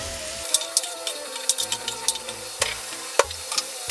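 Onions and tomatoes fry in a pan with steady crackling sizzle, punctuated by irregular sharp pops and the clink of a spoon stirring, close and moderately loud with no talking.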